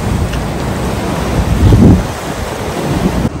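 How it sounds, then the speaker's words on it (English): Water rushing through a dam-like roadside structure along Norway's Troll's Road, a steady broadband roar with a brief swell in the middle, continuous and fairly close with no talking. "Water comes through here."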